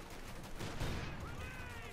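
Distant rifle and machine-gun fire rattles in Company of Heroes 2 as infantry trade concentrated fire, a faint, continuous crackle with one louder burst near the middle, under a steady background of battle noise.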